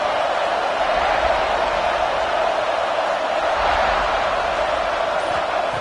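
Broad, steady roar of a football stadium crowd at an LSU Tigers game, a dense wash of noise holding constant without clear peaks.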